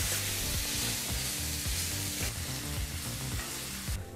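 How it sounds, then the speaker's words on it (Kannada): Tomatoes fry over a medium flame in a pan for chutney, a steady close sizzle with faint stirring, continuous and unbroken, no speech. "ಹೀಗಿಲ್ಲಿ ಟೊಮೊಟೊ ಹಣ್ಣನ್ನು ಬಹಳ ಚೆನ್ನಾಗಿ ಮೃದು ಆಗೋವರೆಗೂ ಫ್ರೈ ಮಾಡಾಯಿತು ಮೀಡಿಯಂ ಫ್ಲೇಮ್ನಲ್ಲಿ"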